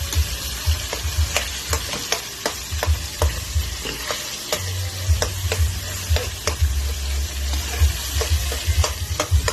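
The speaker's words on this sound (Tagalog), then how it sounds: "durugin po natin yung kamatis." Tomatoes being crushed and sautéed in a pan for Kapampangan ginisang kulitis with tinapa, with a steady sizzle and repeated sharp scraping and tapping of a utensil against the pan, fairly close and without talk.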